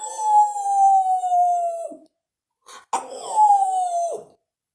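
A voices two long, wavering wolf howls in imitation, each swelling loud then dropping off, separated by a short gap with a sharp catch of breath before the second howl.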